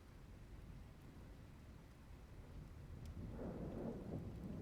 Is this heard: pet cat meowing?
no